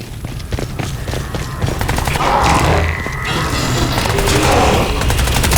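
Sustained automatic gunfire rattles through a Crysis 2 Remastered firefight, rapid bursts of shots layered with booms and mechanical clatter, loud and continuous across the stretch with denser, heavier fire building toward the end.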